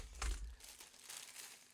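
Protective plastic wrapping around a new keyboard for an iPad Air 11-inch keyboard case crinkles close up during unboxing, with a louder rustle near the start followed by lighter, intermittent crinkling.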